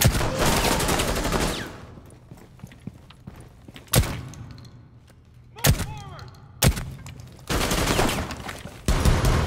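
Gunfire punches through a metal wall in Rainbow Six Siege: loud bursts open and close the moment, with several sharp separate shots and impacts between them and only faint background in the gaps.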